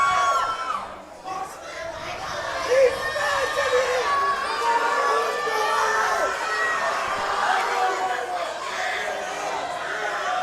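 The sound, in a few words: crowd at a grappling match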